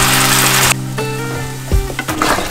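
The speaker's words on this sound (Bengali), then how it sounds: "দিয়ে এবার মশলাটা ভালোভাবে কষিয়ে নেব।" Spices fry in a pan as cashew and poppy seed paste thinned with a little water goes in. A loud, hissing sizzle drops to a gentler bubbling fry, broken by stirring scrapes and clinks.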